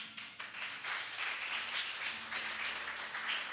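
A church congregation applauds during a sermon, a dense, steady wash of many hands clapping together at moderate volume for a few seconds.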